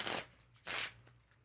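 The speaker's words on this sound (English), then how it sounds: "To set up, you simply want to shuffle a poker deck with 2 jokers." A poker deck of playing cards with two jokers being shuffled: two quick riffling bursts, close and crisp, a short pause between them, with no talk.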